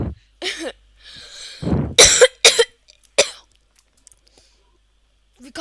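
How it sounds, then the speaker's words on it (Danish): Several coughs and throat-clearing bursts from people during a Danish Minecraft gaming session, short rough bursts scattered across the clip with quiet gaps between them, close to the microphone. "Vi kommer nok til at hoste lidt under."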